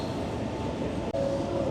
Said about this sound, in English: That's a freight train passing in.